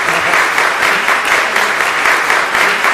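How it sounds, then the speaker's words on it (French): Audience applause for a dancer, a loud, dense wall of clapping from many hands that holds steady throughout, with no voices rising above it. "on peut l'applaudir s'il vous plaît"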